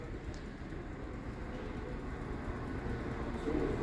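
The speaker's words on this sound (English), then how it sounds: "West Midlands Railway service to Stourbridge Junction." A West Midlands Railway diesel multiple unit, class 172, bound for Stourbridge Junction, rumbles steadily at a Worcester station, a continuous low engine drone that swells slightly near the end, heard at moderate distance without speech.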